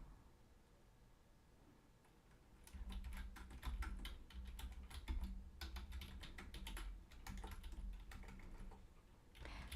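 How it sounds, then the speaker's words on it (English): A message being typed on a computer keyboard: after a quiet start, rapid, uneven key clatter runs continuously for several seconds, close and clear, with no speech. "Let me just type that"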